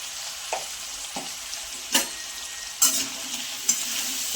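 Onion greens curry fries with salt and turmeric, a steady soft sizzle punctuated by several distinct spatula scrapes and knocks against the pan.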